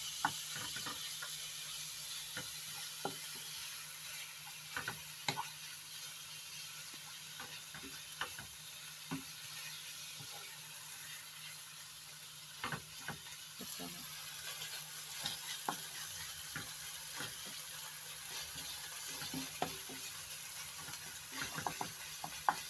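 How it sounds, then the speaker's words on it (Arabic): Minced meat frying in a pan with no added oil or fat, giving a steady faint sizzle broken by occasional scraping and stirring clicks, with no talking. "نبدي هنا بمقلاية، نحط اللحم المفروم."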